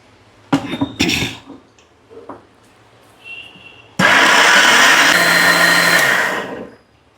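A mixer grinder blends soaked mung dal with turmeric into batter, roaring steadily and loudly for about three seconds after a few short clinks and knocks from loading the jar.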